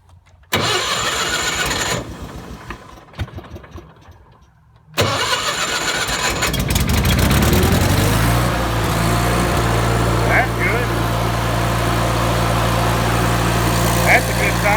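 An old barn-find Miller 225G engine-driven welder is choked and cranked, then catches and settles into a steady, loud, close running drone, with voices talking over the start.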